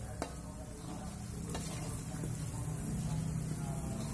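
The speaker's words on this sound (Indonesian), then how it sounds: "Bumbu yang sudah dihaluskan kita goreng dengan" Ground spice paste sizzles steadily in hot oil in a pan, a dense continuous crackle with occasional faint clicks of stirring, close and unbroken for the whole stretch.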